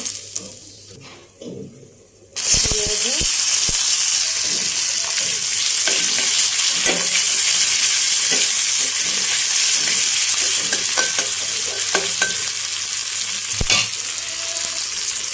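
Cinnamon and bay leaf frying in hot oil in a kadhai while cooking a spiny gourd curry, a loud continuous sizzle that bursts in suddenly after a quiet start and stays steady, with occasional utensil clinks.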